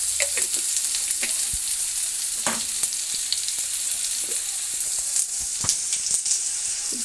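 Chopped onion and whole cumin seeds frying in oil for a winter vegetable dish: a steady bright sizzle close up, with occasional pops and stirring scrapes, and no talking.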